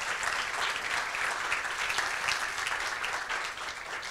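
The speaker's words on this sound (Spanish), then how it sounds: "un aplauso para Colombia" Audience applause at a Cinépolis Chile corporate event, a dense, steady wash of many hands clapping that fills the whole stretch and eases off slightly near the end, with no talk over it.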